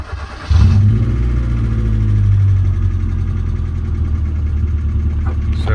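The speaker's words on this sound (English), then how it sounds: "So definitely sounds like a top end tick to me, and it does seem to get louder with the oil cap off." A Ford Festiva engine starts and idles with a steady low rumble and a faint rapid top end tick running through it, close by.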